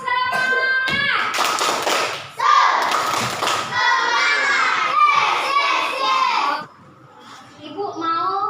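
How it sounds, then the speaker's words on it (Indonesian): Schoolchildren in a classroom perform a rhythmic spirit clap, loud bursts of patterned clapping and taps mixed with excited chanting voices, ending with a brief pause. "Coba dulu ya, tepuk semangat."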